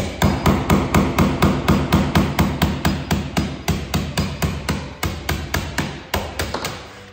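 Rapid, evenly spaced hammer blows drive a fastener with a collapsed ferrule through the deck and hull of an old fiberglass boat, about thirty loud, sharp strikes in steady rhythm with no talking.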